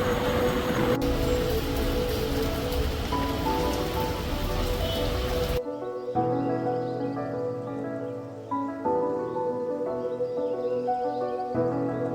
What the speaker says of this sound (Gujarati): ઓલરેડી મસ્ત વરસાદ આવે છે ભાઈ ઝીણો ઝીણો